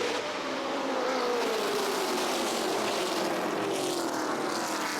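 Stock cars at Nashville Fairgrounds Speedway during the All American 400 accelerate off turn four on a green-flag restart, a loud continuous engine roar with a rising and falling pitch sweep that fills the whole clip.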